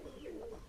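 A flying pigeon gives a short, soft coo with a brief rising and falling call, close and alone, over a low background rumble.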